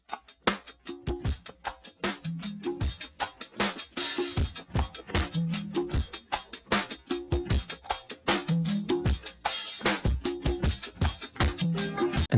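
A distorted, heavily processed drum loop in a hip-hop beat, with punchy repeating kicks and snappy hits in a steady rhythm, loud and up front with no talking.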